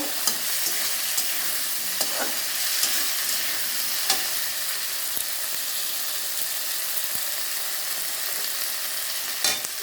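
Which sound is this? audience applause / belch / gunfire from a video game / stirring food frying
stirring food frying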